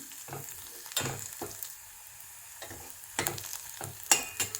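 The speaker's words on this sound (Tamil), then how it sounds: "இது கூடவே சின்ன வெங்காயம் போட்டு வதக்கலாம்." Small onions sauté in a pan for a green chili moru curry, with a soft steady sizzle broken by several sharp clinks and scrapes of a spoon stirring against the pan, close and without talk.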